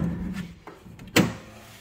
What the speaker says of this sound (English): actually open the door